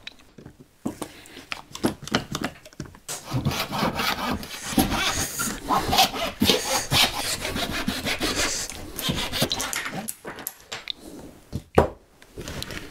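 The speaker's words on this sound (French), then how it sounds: "je vais le faire à la scie à main" Steady back-and-forth strokes of a hand saw cutting through wood for a kumiko frame, close and rasping, with short pauses at the start and end.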